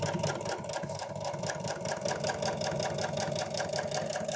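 A sewing machine stitching a boat cushion welt, running in a fast, steady mechanical chatter that stays close and even throughout, with no talking.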